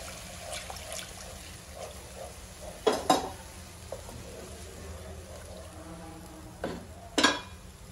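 Buttermilk rasam is stirred in a pot with soft liquid swishing and occasional clinks of a spoon against the metal. It sounds close and quiet, with a few louder scrapes.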